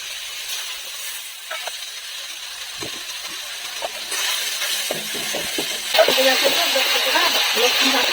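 Spice paste being fried in oil with a little water added, giving a steady hiss and sizzle that grows louder and busier in the second half, with faint clinks and no clear voices.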